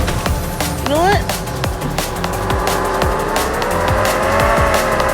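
Racing action in a mobile car game, with engines droning, tires squealing and an impact as a white car rams the player, all under loud, constant game audio.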